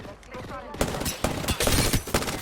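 Gunfire in the Apex Legends battle game, dense rapid bursts of shots crackling close and loud over a busy, noisy fight, with a voice speaking briefly near the start.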